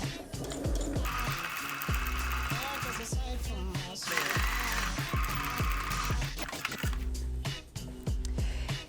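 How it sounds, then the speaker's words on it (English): A sewing machine stitches a lapped seam in short mechanical bursts of rapid clatter, separated by brief pauses, close and moderately loud. "You're going to back stitch at the beginning and at the end of the stitch."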